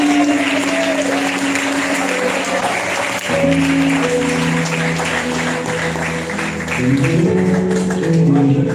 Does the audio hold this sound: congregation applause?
yes